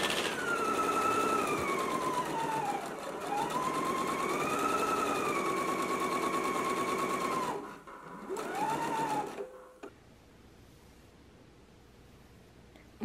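A sewing machine stitches a 3/8-inch seam down the long edge of a strap, its motor whirring steadily and shifting pitch as it speeds and slows, then stopping after a short final burst, with no talking.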